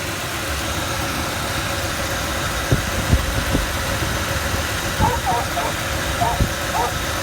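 A 2006 Ford F150 with the 4.6L engine idling with the A/C running, a steady mid-pitched hum with faint vibration and a few soft clicks and knocks, while someone speaks over it.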